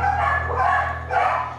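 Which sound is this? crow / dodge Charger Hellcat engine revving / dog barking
dog barking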